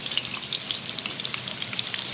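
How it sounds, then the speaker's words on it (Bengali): An egg fries in a pan at an outdoor cooking spot during rain, giving a steady crackling sizzle with bright popping spatters throughout. "ডিমটা ভাজা হোক"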